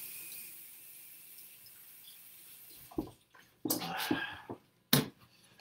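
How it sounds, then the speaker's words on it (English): Hands washed under a running kitchen tap, bursts of splashing water starting after a quiet stretch, close and moderately loud, no speech. "I'm washing my hands."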